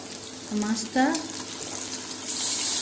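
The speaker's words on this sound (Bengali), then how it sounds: "আর এখানে আমার বেগুনটা ভাজা হয়ে এসছে," Brinjal and fish fry together in a pan with a steady, close sizzling hiss that runs throughout, while a person talks over it.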